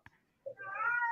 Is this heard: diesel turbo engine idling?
no